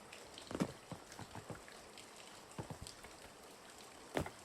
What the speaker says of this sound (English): The rain gets heavier as we go up the mountain.